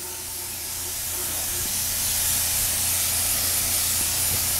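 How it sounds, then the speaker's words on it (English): A paint spray gun hisses continuously while coating a Kawasaki motorcycle wheel during restoration, a broad, steady airy spray that swells slightly at the start and then holds, with a low hum beneath. "this is a good chance for Glenn to get some spraying experience"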